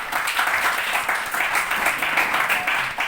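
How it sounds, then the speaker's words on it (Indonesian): Students in a classroom clap for presenting groups, a loud, lively burst of hand-clapping with slightly pulsing rhythm running the whole time, no voices over it. "berikan tepuk tangan untuk kelompok 3 dan kelompok"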